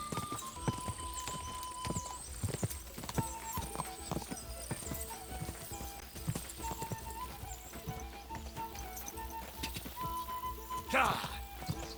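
A horse in the Kingdom Come: Deliverance II video game clip-clops steadily at a gallop, its hoofbeats rhythmic and close with a brief whinny near the end, while a voice talks over it.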